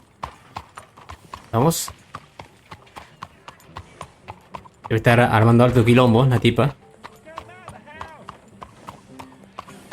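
Horse hooves clip-clopping at a steady walking pace while riding in Red Dead Redemption 2, close and continuous, with someone talking over them and a burst of character dialogue midway.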